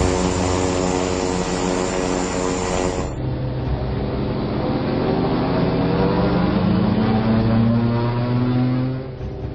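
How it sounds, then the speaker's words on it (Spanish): Twin-engine propeller aircraft engines on a cockpit voice recording during an aborted landing, a loud steady drone with layered, slowly shifting tones as each engine runs at different power, continuous throughout with no talk. "¿Puedes subir el sonido de los motores?"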